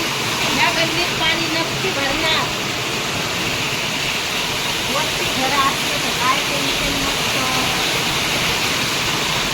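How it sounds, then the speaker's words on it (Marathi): Heavy monsoon rain pours down in Surat, a dense continuous hiss of water that stays even and loud while voices talk over it. "खूप पाऊस चालू आहे"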